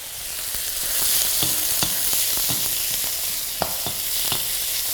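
Steak and onions fry in a hot wok with a steady, dense sizzle, broken by several sharp clanks and scrapes of a utensil against the metal.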